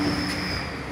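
Bosch Europa horns fitted to a Mitsubishi Montero give one loud, sustained, brassy blare that holds a steady pitch for the full second, with no voices over it.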